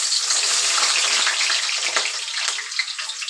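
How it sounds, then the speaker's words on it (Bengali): Chopped onion hits hot oil in a pan for a Bengali chicken kosha, giving a loud, steady, bright sizzle that crackles continuously with no voices. "আমি এবার পেঁয়াজ কুচিটা দিয়ে দেব।"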